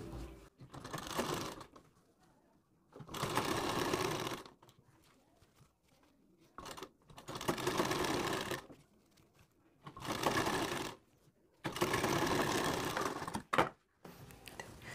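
A sewing machine stitches a frill onto a puff sleeve in five separate bursts of a second or two, each a steady mechanical whirr, with brief pauses and fabric handling between them.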